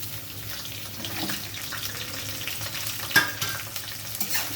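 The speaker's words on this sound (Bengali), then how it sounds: "এবার আমি ভেন্ডিগুলোকে দিয়ে দেব।" Okra hits hot oil tempered with black cumin, giving a soft steady sizzle with a sharper crackle and clatter partway through as the pan is handled.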